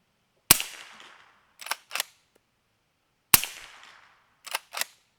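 Two loud shots from a Henry X Model Supreme rifle in 300 Blackout, fired at a target 100 yards away; each blast decays briefly and is followed by two quick, sharper cracks, with quiet gaps between.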